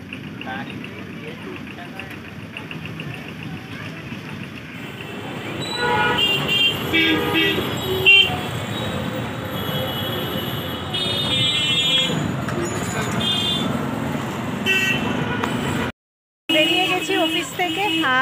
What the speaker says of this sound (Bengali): ট্রেন হেঁটে হেঁটে যাচ্ছে